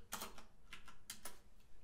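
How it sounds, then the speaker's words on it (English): Fast typing on an RGB mechanical keyboard without arrow keys, with bursts of crisp, clicky keystrokes at an uneven rhythm, recorded close and alone. "I don't know if anyone like is into mechanical keyboards. You can clearly hear it."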